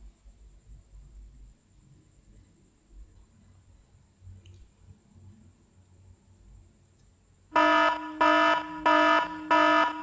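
EA Golden Pro trading software sounds its signal alert: a loud, bright electronic tone pulsing in four rapid repeated bursts after a long near-silent stretch with faint background noise.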